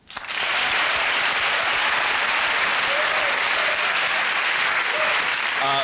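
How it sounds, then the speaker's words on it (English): A studio audience at a comedy panel show bursts into loud, sustained applause that rises fast and holds as a dense wall of clapping, with a faint voice near the close. "Please join me in a round of applause for our people and their things."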